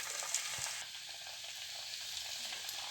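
Coconut garelu, Telugu fritters, frying in hot oil with a steady crackling sizzle and faint stirring, close and even throughout.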